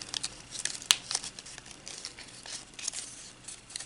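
Paper being folded for a modular origami ninja star ring, with soft crinkling rustles throughout and one sharp crackle early on, close and fairly quiet.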